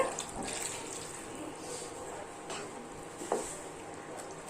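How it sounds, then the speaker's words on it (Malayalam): Water being poured from a cup into a pan of soya chunks curry, a soft steady splashing and trickle with a slight clatter partway through, close and moderately quiet. "ഇനി ഇതിലേക്ക് 2 കപ്പ് വെള്ളം ചേർത്ത് കൊടുക്കണ്ട."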